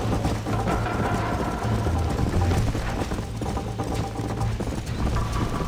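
Horse hooves clip-clopping in the Red Dead Redemption video game, a steady rapid rhythm of hoofbeats running continuously and close, with no talk over it.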